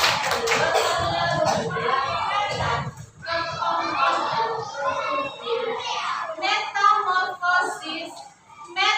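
A classroom of primary-school children claps in rhythm while chanting the butterfly clap, a clapping routine about metamorphosis, with voices dominating over the quick pattered hand claps throughout.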